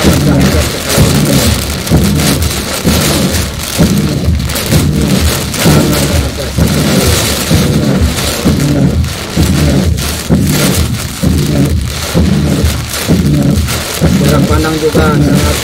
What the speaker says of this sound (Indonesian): Allah sudah menghujani turun hujan seperti ini lah yang kenapa sangat sangat dahsyat sekali